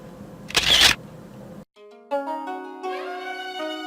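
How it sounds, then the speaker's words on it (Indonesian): A camera shutter snaps once, a short sharp click at a Buddhist temple, Vihara Dharma Giri in Pupuan, Tabanan, Bali, followed by ringing tonal music. "Kita cekrek dulu di sini untuk mengabadikan momen."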